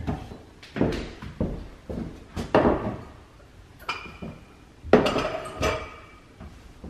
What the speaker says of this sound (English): let me get those glass jars really quick